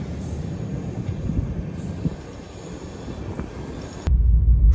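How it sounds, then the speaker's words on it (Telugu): The Secunderabad–Vasco Da Gama bi-weekly express runs with a moderate rumble of wheels and coach rattle heard from on board, a couple of faint squeals rising, then a sudden heavier low roar near the end. "ఇప్పుడు మన ట్రైన్ అయితే బయలుదేరిపోయింది"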